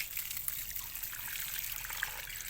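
Water pouring onto freshly planted mint cuttings from a watering can, a steady soft splashing trickle that stays even throughout.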